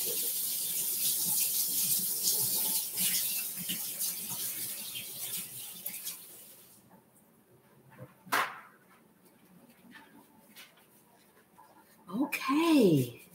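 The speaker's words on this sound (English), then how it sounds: "Let me wash my hands right quick." Tap water runs steadily in a home kitchen sink for hand washing, a broad hiss for about seven seconds that then cuts off, followed by a few clinks and quiet talk.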